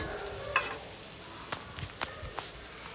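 Chicken pulao (morog polao) is stirred in a pot with a spoon, giving a few faint scraping swishes and soft clinks over a low sizzle.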